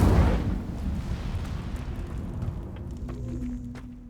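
The Incendio fire spell in Hogwarts Legacy bursts with a loud whooshing blast at the start, then a crackling roar that slowly fades over a few seconds.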